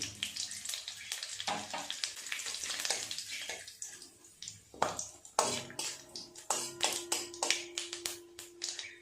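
Dry chilli, two bay leaves and whole cumin hit hot oil for a tempering, a soft sizzle broken by a string of sharp taps and scrapes from the utensil against the pan.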